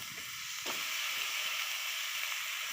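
Taro and potato frying in a pan, a quiet steady hiss and sizzle with a few soft stirring scrapes.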